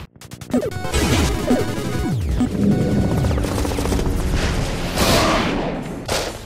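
Ghost Squad light gun game on the Wii, loud rapid gunfire and booming blasts layered into a dense chaotic din, with sweeping tones over the shooting.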